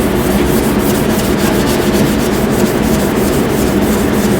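Continuous, fast back-and-forth rasp of sandpaper rubbing a car headlight lens, loud and close with a steady rhythm and no talking.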